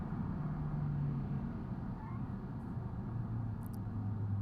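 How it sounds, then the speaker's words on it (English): Peugeot 205 1.0 XE with its tiny engine running flat out in BeamNG.Drive on the Nürburgring, a steady low droning hum that holds constant with a slight pitch shift midway, no talking. "their engine is so small and powerless that it just sounds really loud"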